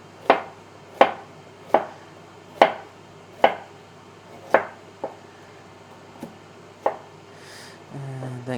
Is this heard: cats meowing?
no